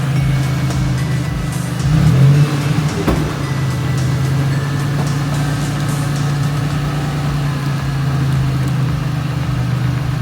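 A Chevrolet Lumina race car sits up on a lift with its engine running, a steady loud low idle holding throughout with a brief swell in revs early on.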